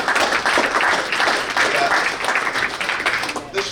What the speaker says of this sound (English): we should have had a little more enthusiasm clapping for your parents